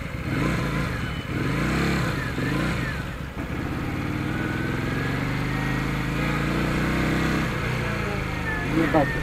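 A Benda Napoleonbob 250 cafe racer motorcycle on a test ride, engine loud and close, revving up and down through shifts with a throaty rumble, a voice talking over it at times.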